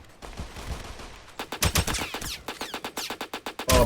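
Rapid rifle fire from an AK-103 in the video game Aimblox, a quiet stretch of mixed game noise giving way to a loud, fast string of closely spaced shots that continues to the end.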